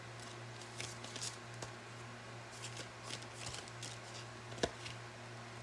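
Oracle cards are shuffled and pulled by hand in a quiet room, soft papery riffles and slides coming in short bursts with one sharper snap near the end, over a steady low hum and no talking.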